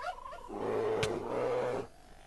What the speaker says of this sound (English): Oh, two turkeys. Three turkeys.